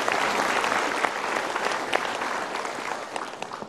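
An indoor audience at a motivational seminar breaks into steady, dense applause throughout, fairly close and even in loudness, with no talking over it.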